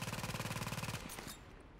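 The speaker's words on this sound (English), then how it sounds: "Just got a machine gun." Rapid automatic machine-gun fire in The Division video game, a fast, loud rhythmic burst for about a second, then a few trailing shots and echoing decay.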